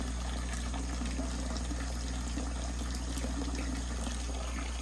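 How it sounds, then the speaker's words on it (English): Steady water flow running in a home crayfish tank, a continuous close trickling and pouring wash that holds at an even level throughout with no voices. "This is the flow of my water, the flow rate."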